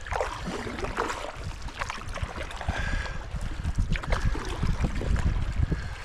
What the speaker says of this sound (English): creek's starting to pick up.